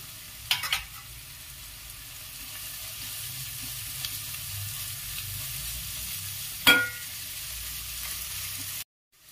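Ginger garlic paste fries in a pan for a mixed vegetable curry, sizzling continuously while a utensil stirs and scrapes, with a couple of sharper clinks along the way; no voices.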